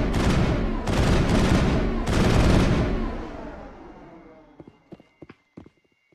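Gunfire in the video game Mass Effect: three loud bursts of rapid automatic fire that decay into echo, then a scatter of sharp single shots and clicks, fainter toward the end.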